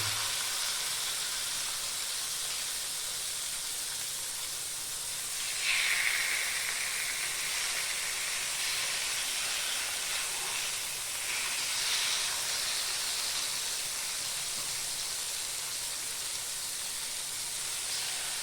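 Pieces of kera fish fry in a small amount of butter in a pan, a steady soft sizzle and hiss with a brief sharper flare-up partway through, fairly quiet and with no talking.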